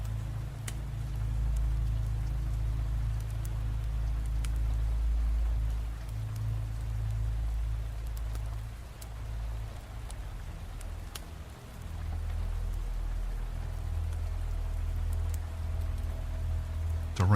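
Steady rain falls with a continuous hiss and occasional sharper drop ticks, over a low rumbling undertone that dips briefly near the middle, calm and unbroken throughout.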